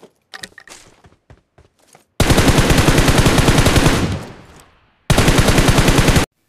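Loud automatic gunfire from the BGMI battle royale mobile game, an M4 rifle among the weapons: scattered single shots and short bursts, then a sustained two-second stream of rapid fire that tails off, and another dense burst near the end.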